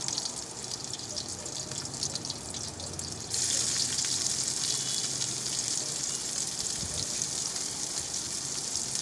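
Sliced onion, green chilies and garlic fry in oil for moong dal khichdi, a steady close hiss that swells noticeably louder about a third of the way in and keeps sizzling evenly to the end.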